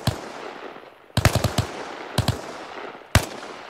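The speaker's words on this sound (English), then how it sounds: "God damn it, my gun's shooting high." Gunfire in the video game ARMA Reforger comes in short bursts of sharp, loud rifle shots, three separate volleys spaced about a second apart over a faint background hiss.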